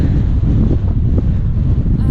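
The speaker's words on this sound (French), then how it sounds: "Il y a un vent de dingue aujourd'hui, le bord du Danube." Strong wind roars along the bank of the Danube, battering the microphone with a loud, continuous low buffeting rush that barely lets up.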